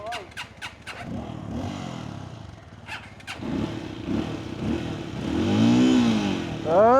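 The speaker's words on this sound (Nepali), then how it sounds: "म राइड गर्दैछु यो बाइक" A motorcycle is ridden with the engine revving, several quick throttle blips at the start and then a steady, rising engine roar close by. Someone talks excitedly over it.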